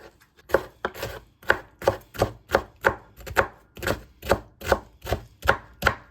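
A knife chops vegetables on a board while making Romanian sarmale, about a dozen sharp, evenly spaced thuds in a steady rhythm, close and clear with no speech.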